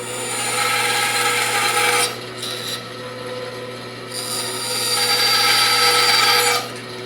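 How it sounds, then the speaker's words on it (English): A bandsaw cuts a notch in a piece of wood, its steady motor whine joined by a louder rasping bite into the wood that rises and eases twice over several seconds. "You can use a jigsaw for this, but I'm going to use the bandsaw."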